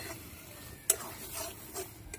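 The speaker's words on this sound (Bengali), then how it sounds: "ভালো করে মিশিয়ে নেব হলুদ গুঁড়োটা" A spatula stirs cabbage mash with turmeric powder in a pan, soft scraping and faint sizzle with one sharp utensil clink against the metal partway through, quiet overall.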